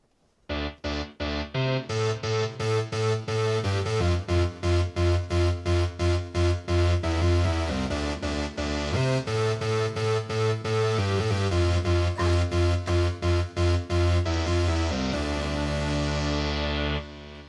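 An electronic keyboard plays a steady, rhythmic intro of repeated chords with a bass line, bright and continuous for the whole stretch, with no voices.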